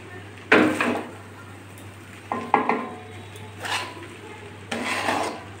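Maggi noodles being stirred and mixed with fried potatoes in a pan, giving four separate scraping, rubbing bursts of a utensil against the pan over a steady low hum, close and moderately loud.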